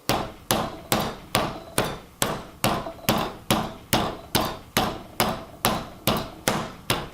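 Chicken breast is pounded thin with a meat mallet, about sixteen sharp, heavy thuds in a steady rhythm roughly every half second, close and loud with brief decays between strikes.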